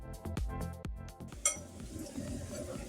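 A fork whisks a mixture in a bowl before ground beef is worked in, giving a run of quick close clinks and scrapes against the dish with a sharp tap partway through.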